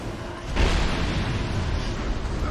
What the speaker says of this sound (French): Oh là, ça sent l'explosion là, oui.